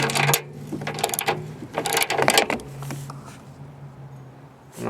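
Ratchet with a 15mm socket loosening a tow hook bolt on a 2001 Ford F150 4x4, giving several close bursts of quick clicking that fade to a low hum.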